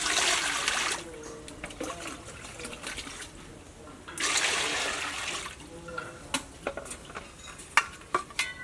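Water is poured into a cooking pot to be brought to the boil, in two splashing bursts of rushing liquid followed by scattered light clinks and taps of the pot.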